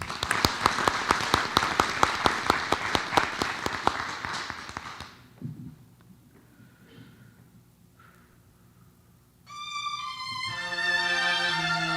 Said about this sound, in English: let's give Abel a round of applause